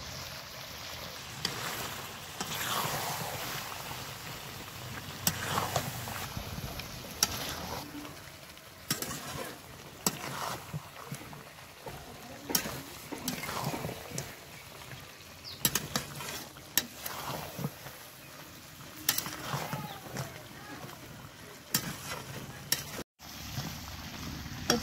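Duck meat frying in oil with ground spice paste and garam masala, stirred steadily in a pan for biryani; continuous close sizzling with repeated scraping stirs and occasional wet splashes, moderately loud, with no talk.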